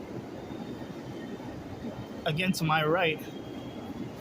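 A subway train approaches at Times Square station underground, a low, steady rumble and hiss of the platform filling the background while someone speaks over it briefly.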